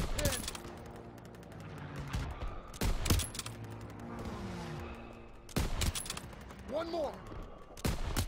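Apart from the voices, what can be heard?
gunfire in the video game Call of Duty: WWII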